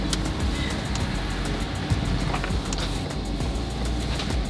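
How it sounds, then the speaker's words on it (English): A camper van drives along a road with a steady broadband rumble of engine and road noise, some brief knocks and rattles, and no talk. "I'm gonna let Kim drive the van, which is the first time she will be driving it"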